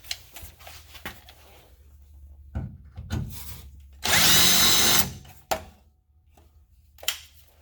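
A power drill bores slowly through steel while mounting a bracket for an Air Lift 5000 air-bag install on a Ram 1500, giving one loud, steady grinding burst of about a second, with lighter clanks and knocks around it.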